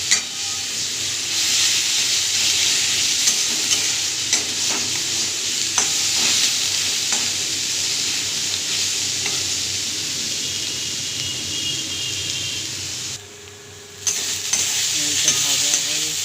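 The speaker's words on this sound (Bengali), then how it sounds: "পেঁয়াজ দিলাম, আদা রসুন দিয়ে সেটাকে ভালো করে ভেজে নেব" Chopped onion frying with ginger and garlic in a wok, a loud steady sizzle with stirring scrapes throughout, briefly dipping quieter near the end before sizzling again.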